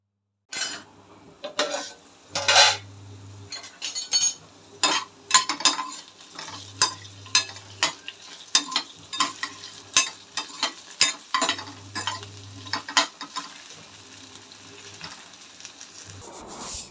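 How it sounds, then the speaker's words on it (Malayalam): Okra frying in a pan and stirred now and then, a soft steady sizzle under repeated scraping and clinking of a utensil against the pan in short irregular bursts, close and fairly quiet. "ഇടയ്ക്കിടയ്ക്കൊന്ന് ഇളക്കി കൊടുക്കുന്നുണ്ടായിരുന്നു."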